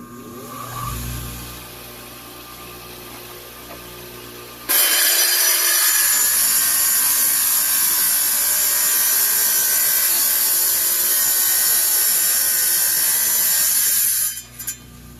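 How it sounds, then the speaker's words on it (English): A loud, sustained shriek of a wet tile saw cutting a stone ring blank starts abruptly after a few quiet seconds, holding steady before cutting off near the end. "let's go over to the tile saw"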